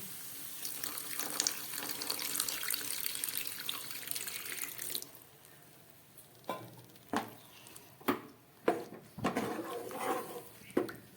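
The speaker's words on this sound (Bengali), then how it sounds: "এবার আমি জলটা দিয়ে দিচ্ছি" Water poured into a pan of poppy seed fish curry, a steady broadband pour for about five seconds, then sporadic splashes and clinks as the pan settles.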